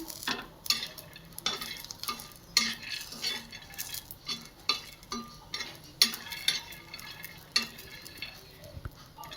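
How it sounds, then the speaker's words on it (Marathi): Red chillies dry-roasted in a pan for a spicy chutney, stirred with a metal spoon that clinks and scrapes in an irregular rhythm over a faint low sizzle, close and with no talk. "असं छान असे भाजून घ्यायचं लालसर"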